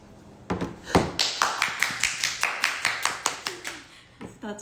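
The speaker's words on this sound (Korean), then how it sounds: "박수!" Hands clap in a steady rhythm, about fourteen close, crisp claps after a couple of louder opening smacks, with light talk underneath.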